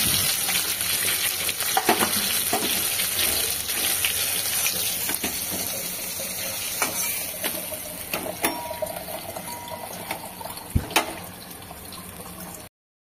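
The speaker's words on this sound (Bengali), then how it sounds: "সমস্ত মাছগুলো ভাজা হয়ে গেছে" Parshe fish fry in hot oil, giving a steady close sizzle and crackle with occasional sharp pops and stirring clinks, and no voices.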